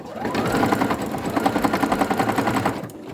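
A sewing machine stitching fabric, close and steady, its rapid mechanical rattle running evenly for a few seconds before stopping, with no talking.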